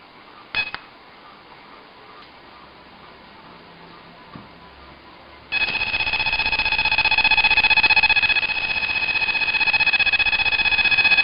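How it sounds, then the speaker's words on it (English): A luggage anti-theft alarm built on a TI MSP microcontroller goes off after its security cable is cut: quiet handling and a couple of clicks, then a sudden loud, steady high-pitched electronic tone that keeps sounding continuously. "MSP Alarm works even when the cable is cut."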